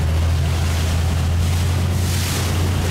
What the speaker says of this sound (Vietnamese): Đó, đây thêm một chiếc ghe.